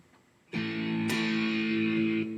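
Electric guitar played through a distortion stomp box plugin in Pro Tools 12, using Amplitube 3 effects: a loud, sustained, buzzing distorted chord rings out alone with a fresh strum midway.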